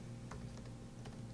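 Faint computer-keyboard typing, as someone enters commands while coding in C#. A few soft, separate key clicks sit over a steady low background hum.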